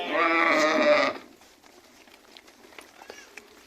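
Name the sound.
Arashan sheep bleating, returning from pasture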